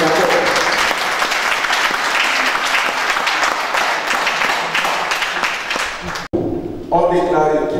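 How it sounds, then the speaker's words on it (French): Guests applaud at a French civil wedding ceremony in a town hall. The clapping is loud and dense and runs for about six seconds, then breaks off abruptly and a voice begins speaking. "on peut applaudir"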